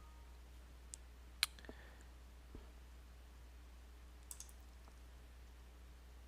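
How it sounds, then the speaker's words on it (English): Sparse computer mouse clicks during spreadsheet regression work, a few sharp isolated taps spaced over several seconds against a quiet room hum, faint and close, with no talking. "And click OK."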